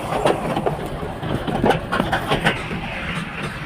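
A train rumbles across the Farakka bridge, with close, loud rhythmic clickety-clack wheel beats over a low rolling drone.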